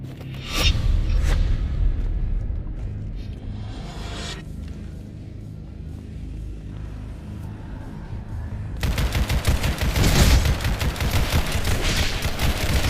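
Video game gunfire rattles in dense automatic bursts with booming rumbles. It thins out mid-way, then swells into a loud, continuous barrage.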